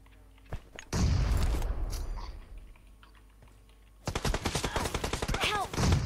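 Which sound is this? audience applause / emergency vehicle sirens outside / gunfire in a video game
gunfire in a video game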